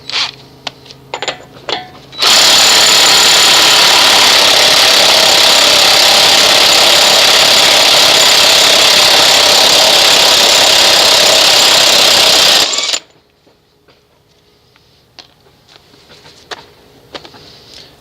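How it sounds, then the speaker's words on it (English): An impact wrench spinning off the axle nut with a 36mm socket on a 1989 Chevy K1500 Silverado, one loud continuous buzzing whir lasting about ten seconds before stopping, with faint clinks before and after. "take a 36mm socket and remove the axle nut"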